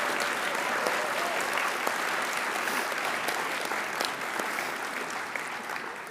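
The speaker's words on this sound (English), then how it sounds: "if you can give them another big round of applause" A seated audience at a space station research conference awards ceremony claps steadily as honorees leave the stage, a dense, even patter of many hands that fades slightly toward the end.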